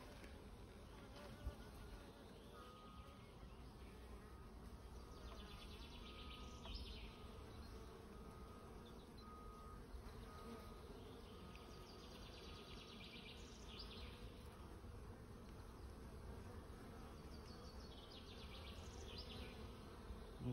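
Honeybees in an open, healthy hive during an inspection, a dense continuous buzz that stays close and fairly quiet throughout, with no voices.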